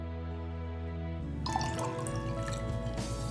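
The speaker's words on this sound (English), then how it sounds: "And now we're going to add the vinegar." Vinegar poured into cooled sweet tea for kombucha: a low steady hum, then a liquid splash and trickle starts about a third of the way in and continues close by.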